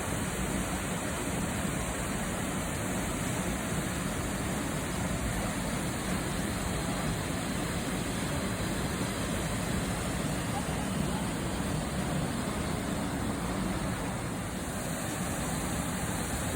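Johnston Canyon's Lower Falls in Alberta pour with a steady, dense rush of spring water, a loud unbroken roar that fills the whole stretch without pause.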